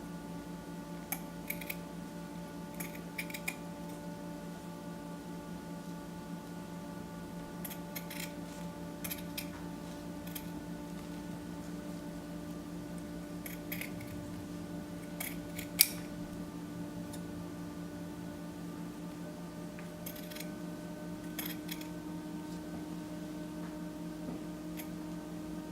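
Scissors snip through folded paper to cut out flower petals, a few short clusters of faint crisp clicks spread apart over steady low background hum, no talking.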